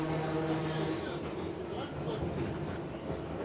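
A four-car Electroliner interurban electric train with eight traction motors runs past, a steady rumbling roar of wheels and motors with a faint high whine near the start, heard under talk.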